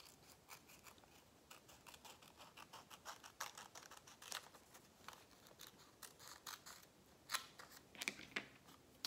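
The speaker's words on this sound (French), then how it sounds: "Ici, je vais plier, c'est juste pour me donner la ligne de conduite, parce que je vais couper." Scissors snipping paper for a vintage-style pouch, a quiet series of short crisp cuts and rustles close by, irregular in rhythm, with no talking.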